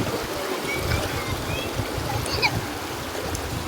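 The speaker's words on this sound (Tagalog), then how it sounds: "Ang lakas ng agos ng tubig." A strong river current rushes and gurgles in a steady, loud, continuous wash of flowing water, heard close up and without talk.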